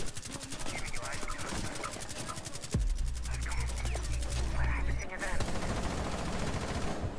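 Rapid automatic gunfire tears through a wall in Rainbow Six Siege, a loud sustained stream of close shots with a heavy low rumble swelling in the middle, continuing under game noise.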